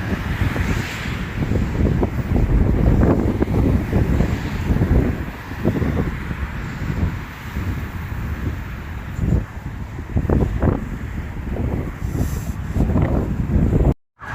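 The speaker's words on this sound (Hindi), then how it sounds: "तो खड़े होना मुश्किल है, इतनी तेज़ हवा है यहाँ पे।" Strong wind roars under a bridge in downtown Warsaw on an autumn day, a loud continuous buffeting rush with gusty swells close to the microphone, no voices, cutting off abruptly near the end.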